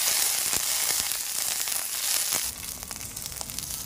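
Four or five garlic cloves fry in hot oil for a dosakaya roti pachadi, a steady close sizzle with scattered pops and crackles that eases slightly toward the end.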